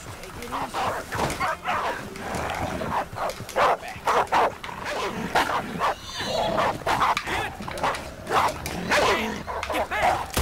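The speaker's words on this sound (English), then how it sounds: "Oh, some dogs after me." Dogs in Red Dead Redemption 2 bark and yip in repeated sharp bursts with some whimpering, loud and close, over steady game ambience throughout.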